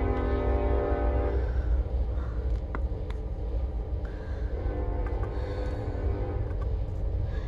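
A train passes at a distance, a steady low rumble and rolling drone sustained throughout, faint and unaccompanied by talk.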